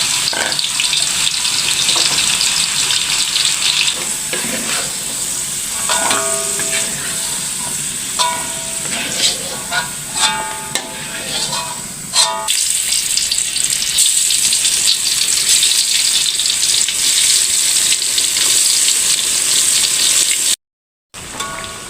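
Tempeh fries in a pan with continuous crackling sizzle, punctuated by clinks and scraping of utensils, loud and close.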